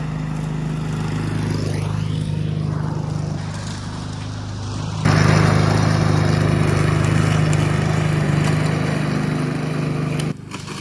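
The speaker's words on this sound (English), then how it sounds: "Got the old Honda push mower back out." An old, worn Honda push lawn mower runs steadily close by, its engine droning throughout as it passes over rocks, with the sound growing harsher and louder about halfway through.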